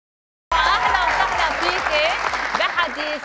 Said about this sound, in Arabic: شو هالزقفة والهيصة الكبيرة يا جيسيكا